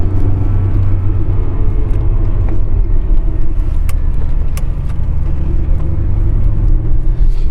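A Ferrari 328 or 348 on the move, its engine a deep, loud, steady rumble heard from close range, with occasional faint clicks over the drone.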